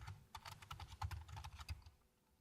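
Someone types code on a computer keyboard, a quick, uneven run of close, quiet key clicks over roughly two seconds, then it stops.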